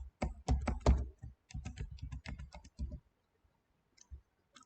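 Keys on a computer keyboard are tapped in a quick run of close, crisp clicks while a password is entered, followed by a few isolated taps after a pause.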